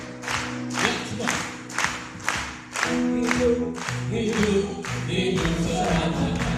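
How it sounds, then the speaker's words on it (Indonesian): Church congregation at a Christmas service clapping hands together in steady unison, loud regular claps about twice a second, joined by music and crowd noise in the second half. "Ayo tepuk tangan dulu."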